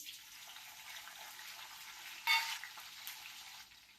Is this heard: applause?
no